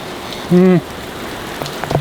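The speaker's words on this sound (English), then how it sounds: "we're getting a ton of rain" Heavy rain pours down at a motocross track, a dense, steady hiss throughout, broken by a brief, loud tonal honk and a few faint knocks nearby.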